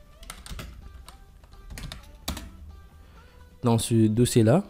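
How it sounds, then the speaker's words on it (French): Keystrokes tapped out on a computer keyboard while entering a mkdir command, a quick irregular run of clicks at close range, then a voice begins speaking over the last second. "je tape juste mkdir pour créer le dossier"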